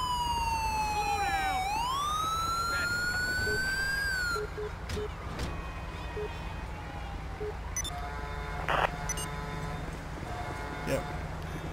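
Wailing ambulance siren from Grand Theft Auto V sweeps down and up loudly for several seconds, then cuts off, leaving scattered clicks, thumps and faint background sounds.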